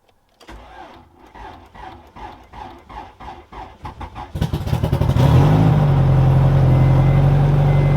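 An engine cranks over in a steady rhythmic churn after its battery was moved to the trunk, then catches and starts, settling into a loud, close, steady idle.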